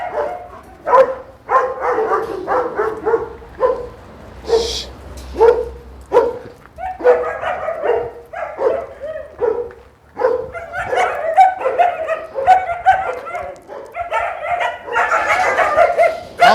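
Several dogs bark and yip repeatedly in a busy, overlapping chorus, close by, with occasional whimpers and a few human voices mixed in.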